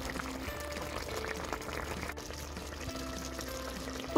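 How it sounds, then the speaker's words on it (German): About 200 millilitres of cream pours into a pot for poultry liver sausage, a soft continuous liquid pour under a low background hum, fairly faint and steady. "Dem Ganzen fügen wir nun 200 Milliliter Sahne dazu."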